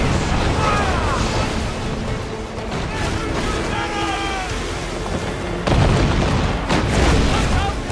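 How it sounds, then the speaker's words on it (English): Heavy ship cannons boom during a naval battle in the pirate-era game Assassin's Creed, deep blasts over rushing sea and waves, with crew voices shouting and a louder burst of fire near the end. "Load the cannons!"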